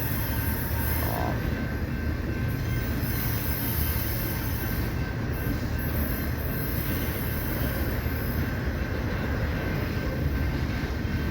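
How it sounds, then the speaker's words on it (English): A freight train pulls out of Hobson Yard in Lincoln, Nebraska and swings south. The rumble is loud and constant, broadband and steady, with faint wheel squeal over it and no voices. "This train is just leaving Hobson Yard and is swinging south"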